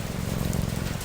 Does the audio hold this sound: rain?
yes